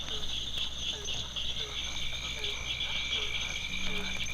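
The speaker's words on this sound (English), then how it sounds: "A chorus of cricket frogs, punctuated by the bass of a bullfrog, and joined also by a southern toad" A dense night chorus of clicking, chirping cricket frogs fills the air, with occasional deep bass croaks from a bullfrog underneath.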